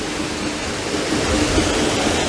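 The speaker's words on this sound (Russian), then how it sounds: "И вот мы уже на подходе к этому водопаду." Loud, unbroken roar of a large waterfall in the mountains of Adjara at Machakhela, a broad rushing wash that swells slightly toward the end with no talk.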